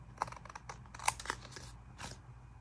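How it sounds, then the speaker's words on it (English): Scissors snip a printed paper piece during trimming, with a few short, crisp cuts scattered across a quiet background and one sharper snip near the middle. "I can trim that with a scissor"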